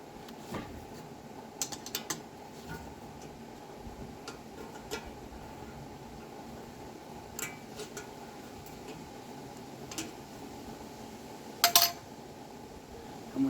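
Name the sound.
undoing fastener on Ruston Hornsby PB petrol tank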